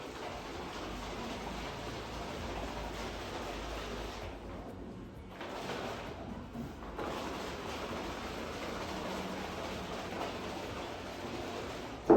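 Cream and water shaken hard in a container to separate butter, a steady close sloshing churn that briefly pauses twice, with no talk.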